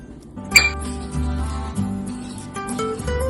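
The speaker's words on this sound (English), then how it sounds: "Now add flour and stir." A utensil stirs flour into chocolate batter in a bowl, giving bright clinks and scrapes against the dish, including a sharp knock near the start and softer repeated contact after, close and alone.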